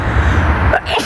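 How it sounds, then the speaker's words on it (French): A single sharp human sneeze bursts out close to the mic during a casual French-language vlog, cutting briefly through steady background noise before the ambience resumes. "c'était pas fait exprès le éternuement en plein vidéo"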